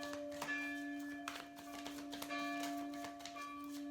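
Bells ring in a steady series of bright, sustained tones over a constant hum, moderately faint and close, with a few sharp clicks scattered through.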